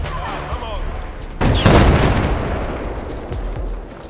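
Gunfire in Battlefield 4, a single heavy shot booming midway through with rumbling decay, preceded by faint game sounds and quiet background noise.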